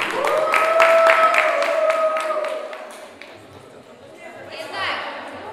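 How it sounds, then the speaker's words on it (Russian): Audience applause rings out at a KVN comedy contest, sharp claps mixed with a sustained tone and crowd chatter that fade after a few seconds before a smaller burst returns, with a voice talking over it. "Ваши аплодисменты."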